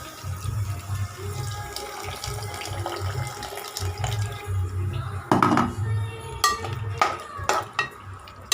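Water is poured into a pan of karamani (black-eyed pea) curry seasoned with homemade chilli powder, a near splashing pour with clinks of utensils against the pot, and stirring bursts toward the end.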